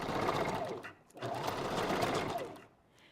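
Sewing machine back stitching on a wig unit, two loud close bursts of rapid mechanical stitching separated by a brief pause.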